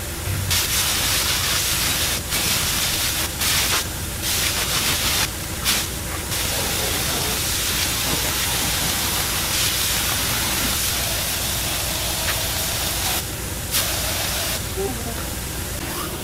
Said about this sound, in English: spray this stuff right here real quick